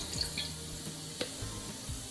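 Water is poured into a flour mixture for Makassar pisang ijo, a brief, quiet splash and trickle with a few drips in a kitchen.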